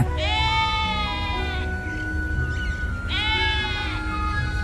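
Sheep bleat in a Bible story scene of David taking his flock to the hills, two clear wavering bleats separated by a pause, over steady outdoor background noise.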